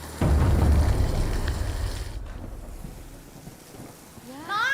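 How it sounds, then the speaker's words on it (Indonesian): Heavy rain falls in a dense, loud hiss that starts abruptly and slowly thins, with a low rumble beneath; a faint rising tone creeps in at the very end. "Ini hujan tuh, deras banget."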